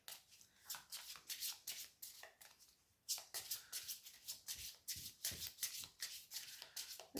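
Rune cards being shuffled by hand at close range, a quiet run of rapid riffling flutters in a fairly regular rhythm with a brief pause midway, with no voices.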